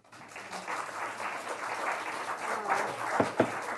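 An audience claps at a zoning board meeting, a moderate, steady patter of many hands in a room that fades slightly toward the end, with a faint voice near the close.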